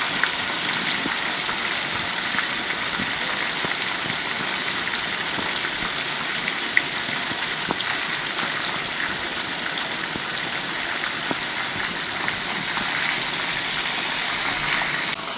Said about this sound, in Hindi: छन छन के ऐसे आवाज़ आनी चाहिए, तेज़ गर्म होना चाहिए